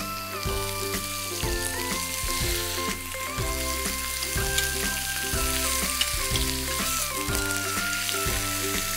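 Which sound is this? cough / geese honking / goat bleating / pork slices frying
pork slices frying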